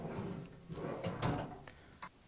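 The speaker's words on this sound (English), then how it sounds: "They're almost completely full extension, so the drawers don't lock when they're out, but they come out." Drawers on a Menards Tool Shop 26-inch four-drawer tool chest slide out on near-full-extension runners, giving a few close rumbling glides with soft clacks and a sharp knock near the end.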